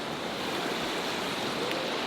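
Steady broadband rush of waterfalls pouring into a mountain lake in Afghanistan, a continuous even roar of falling water with no voices.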